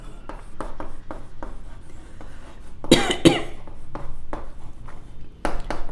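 A pen scratches steadily across paper or board during a class 10 maths lesson on quadratic equations, close and rhythmic, broken by a loud cough midway.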